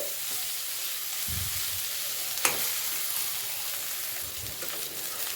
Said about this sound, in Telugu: చూడండి చక్కగా వేగిపోతుంది మొత్తము